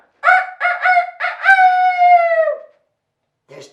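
A comedy show audience imitates a rooster's crow, a few choppy syllables then a long drawn-out wavering call, followed by a short vocal sound.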